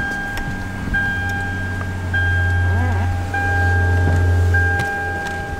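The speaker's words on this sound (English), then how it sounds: "Push button start for this beautiful vehicle." A 2007 Lexus LS 460 starts by push button, with dashboard chimes followed by the engine catching and settling into a low, smooth idle heard from inside the cabin.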